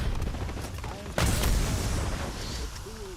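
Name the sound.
enemy grenade exploding in a video game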